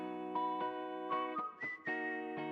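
A bright, processed whistled melody from a song: short sustained whistle notes in a stepping tune, with clear gaps between phrases and no talking.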